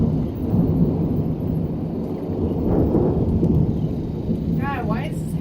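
Thunder from a thunderstorm rolls as a sustained, loud low rumble swelling and fading over several seconds, with a brief chirping sound near the end.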